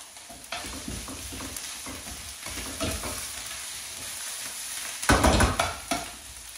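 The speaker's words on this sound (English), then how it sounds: "Next goes in our garlic and ginger paste." Garlic and ginger paste frying with softened onions for chicken bhuna, a continuous close sizzle broken by stirring scrapes and a louder burst of spatula clatter near the end, with no voices.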